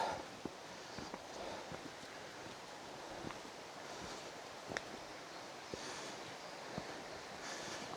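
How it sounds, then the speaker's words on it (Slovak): A mountain stream rushes steadily off to one side in Juráňová dolina, Orava, Slovakia, a constant broadband roar under occasional footsteps on a stone-paved forest trail. "Potok hučí vľavo."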